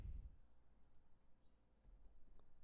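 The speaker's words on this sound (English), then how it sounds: "Why am I so bad at typing?" Sparse, faint clicks of typing on a computer keyboard come through over a low room rumble, with only a few distinct keystrokes standing out.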